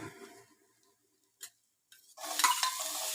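Boiled peas go into a pan of frying potatoes: a few soft taps and clinks, a brief pause, then a close, bright sizzle and stirring that continue to the end.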